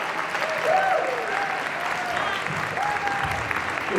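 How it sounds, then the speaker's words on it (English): An audience applauds to welcome a keynote speaker, a lawyer and entrepreneur, with sustained clapping from a large crowd, fairly loud and even throughout, with a faint voice briefly audible over it. "Let's give a round of applause."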